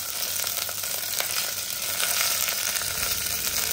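Mustard seeds and curry leaves fry in hot oil in a small kadai, giving a steady, close hiss and crackle that stays even throughout with no voices.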